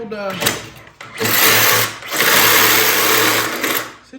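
A Sawzall reciprocating saw cuts exhaust metalwork on a 50-year-old John Deere 450 dozer. Loud, close, rapid buzzing comes in a few bursts separated by brief pauses, with someone talking in between.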